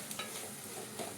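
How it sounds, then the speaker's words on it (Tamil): Tomatoes with salt being sautéed and stirred in a pan, a soft continuous sizzle with a few faint stirring scrapes over a short stretch. "இந்த தக்காளி பார்த்திங்கன்னா நல்லா குழஞ்சி வர அளவுக்கு வதக்கிக்கணும்."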